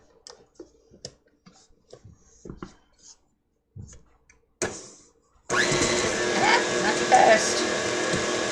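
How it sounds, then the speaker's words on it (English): An electric stand mixer starts up mixing dry baking ingredients, a loud, steady whirring drone that follows several quiet clicks and taps of handling. "Everything goes flying in this mixer."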